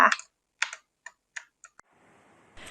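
Several sharp clicks from a Signo KR-751W keyboard, spaced irregularly and close to the mic, with a brief burst of faint noise near the end.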